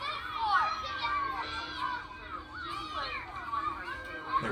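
Children play and shout nearby on a busy city street, their high voices rising and falling in overlapping bursts at moderate volume.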